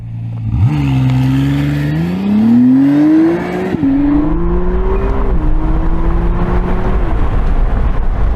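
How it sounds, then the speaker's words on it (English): A McLaren Artura pulls away hard from a launch-control start, engine note climbing steadily with a sharp upshift partway through and another later, loud and close inside the cabin without talk. "Left foot on the brake, floor the throttle."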